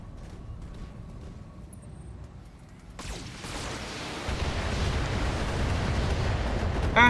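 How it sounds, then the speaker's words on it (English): A missile barrage in the video game BattleTech, starting as a quiet, sparse rumble and then breaking into a loud, dense roar of overlapping explosions that builds until the end. "That's a lot of missiles."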